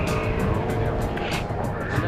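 A Honda Type R taking a tight corner on a race track, the engine roaring steadily up close with a faint tire squeal layered over the drone.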